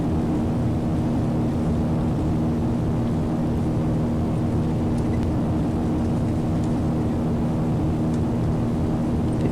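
Dornier Do228 turboprop engines roaring in reverse thrust during landing, a loud, steady broadband rumble with a droning tone that holds without letup throughout.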